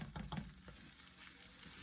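Garlic hits a hot pot of oil for Haitian rice (diri kole) and sizzles steadily, with a few louder crackles and stirring at first, then a soft continuous fry.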